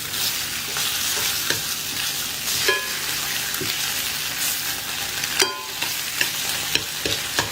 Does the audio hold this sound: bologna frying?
yes